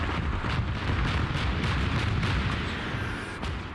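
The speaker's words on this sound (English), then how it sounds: "The ZSU-57-2, such amazing noises firing out of it." In the war game Call to Arms, a ZSU-57-2 anti-aircraft gun fires a dense run of heavy, booming reports that blur together into a rumbling barrage with a faint, crackling tail.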